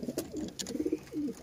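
A Kasoori pigeon coos softly up close, a few low rounded throaty notes in quick succession, with faint background noise.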